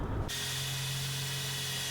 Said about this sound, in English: we're going to drill right around here